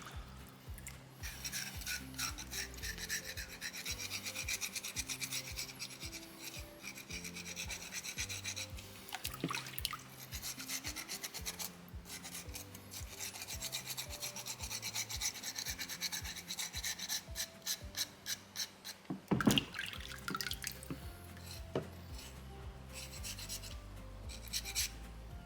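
Soapstone owl carving being sanded by hand: continuous rasping, scraping strokes repeating in a steady rhythm, close and moderately quiet, with a tonal background underneath.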